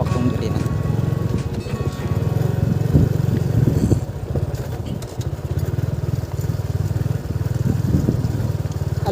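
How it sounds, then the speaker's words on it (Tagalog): A motorcycle engine runs nearby on a narrow coastal road, a steady pulsing putter heard under people talking. "Ala, nakakalusot ang motor doon."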